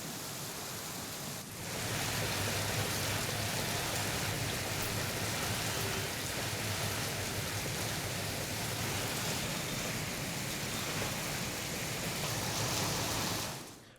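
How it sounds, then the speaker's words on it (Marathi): Heavy rain falls as a dense, even hiss that swells in after a short quieter start and holds steady for over ten seconds before cutting off, with no voices. "जोरदार पावसानं वातावरणामध्ये गारवा निर्माण केला आहे"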